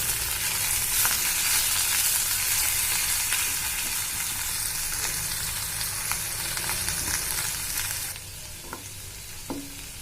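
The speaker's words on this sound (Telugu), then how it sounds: "ఇలా బాగా వేయించుకుందామండి" Leaves frying in a pan at home, a steady close sizzle with faint stirring scrapes, easing slightly near the end and broken by a few light clicks.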